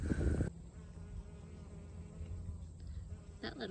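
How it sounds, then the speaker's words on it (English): A small bee laden with pollen hums steadily among flowers on a flower farm, faint and close, after a brief louder rustle at the start. "That little bee's full of pollen."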